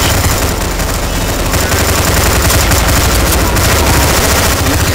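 Dense, loud automatic gunfire from Counter-Strike: Source zombie escape on a Harry Potter map, a continuous barrage of many overlapping shots that fills the whole stretch without pause.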